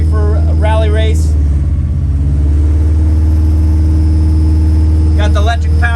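A small hot rod being prepared for a rally race idles with a deep, steady engine rumble close by, holding a constant drone with slight fluctuations, while people talk over it.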